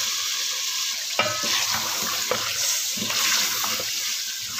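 Chicken browning with masala in a pan gives a steady close hiss of frying, broken by a few sharp scrapes and knocks of stirring at roughly one-second intervals, with no voices.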